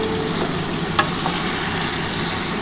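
Chicken pieces fry in oil and a little ghee for biryani, making a continuous close sizzle with an occasional spoon scrape or clack as they are stirred in the pan.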